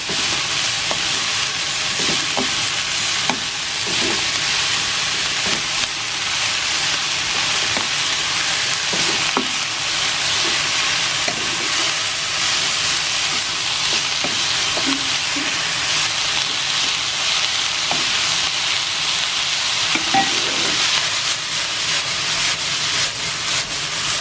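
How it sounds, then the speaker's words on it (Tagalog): Shrimp and broccoli sauté in olive oil in a pan, giving a loud, steady sizzle throughout with repeated scraping and stirring knocks from a utensil. "Hanggang masute doon sa olive oil yung broccoli at saka yung shrimp."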